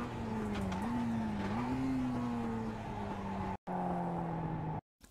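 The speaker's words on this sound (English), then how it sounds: "hit the brakes hard and shift down as soon as possible" An MX-5 race car in the iRacing video game brakes hard and downshifts, its engine tone stepping and sliding in pitch over a steady drone, briefly cutting out twice near the end.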